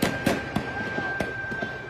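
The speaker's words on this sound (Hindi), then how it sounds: "ये फायरिंग की जा रही है नाजरीन।" Gunfire amid street protest clashes between police and demonstrators, a series of sharp cracks spaced irregularly over a continuous crowd din, moderately distant, with no distinct speech.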